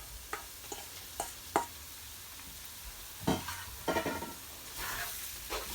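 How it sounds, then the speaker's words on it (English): King prawns dropped into a browning curry, a faint sizzle punctuated by several quiet splats and soft stirring knocks, the hiss swelling slightly toward the end, with no voices. "So now I'm just gonna drop in the king prawns in it."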